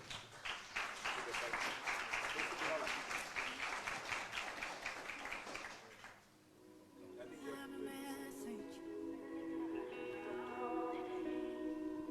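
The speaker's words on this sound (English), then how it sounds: "A warm, hard applause, people." An audience at an evening banking partnership ceremony breaks into dense, warm applause for about six seconds, then the clapping fades into quieter room sound with tonal background.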